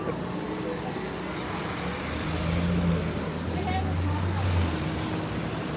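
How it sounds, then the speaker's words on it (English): Traffic noise fills a street near Times Square, with an express bus rumbling past at moderate distance amid a steady wash of car engines and crowd babble, a low engine drone swelling briefly as it goes by. "Express Bus."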